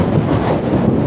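Strong gusting wind buffets the microphone on a hike near Back Tor and Derwent Reservoir, a loud, dense rumble that fills the whole short moment without voices.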